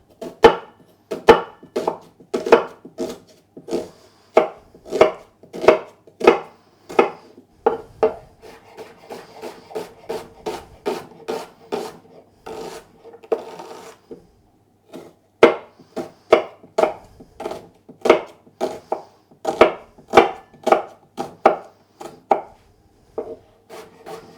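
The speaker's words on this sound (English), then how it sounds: "And then some onions. One I will cut nice and fine because that's going to go in the coleslaw." A knife chops onions finely on a board in quick steady rhythmic thuds, close and crisp, with a short pause midway before chopping resumes.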